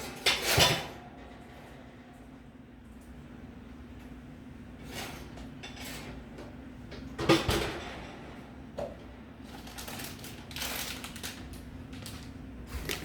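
Oven door opened and a baking tray of crescent roll chicken pockets pulled out, with sharp metallic clanks and rattles of the pan against the rack over a steady kitchen hum.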